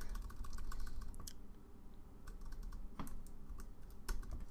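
Quiet computer keyboard typing with scattered key clicks and backspace presses, a faint, irregular tapping heard close up with no talk.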